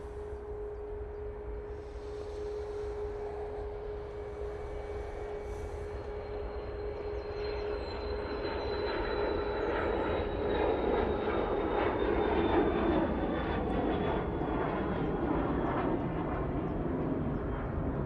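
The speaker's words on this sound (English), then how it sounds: "we've got some props for you coming in from Belfast using this ATR 72" An ATR 72 turboprop arriving from Belfast at Manchester Airport, a steady propeller drone with a sustained tone that swells gradually as it nears, loud and continuous with no talk.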